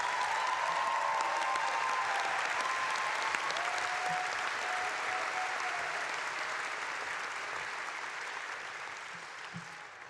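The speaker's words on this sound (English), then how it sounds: "Let's give Jackson Kaguri one more round of applause." Applause fills the Cal Poly 2016 Fall Commencement for speaker Jackson Kaguri, a broad, sustained wash of many clapping hands holding steady for seconds and thinning slightly toward the end.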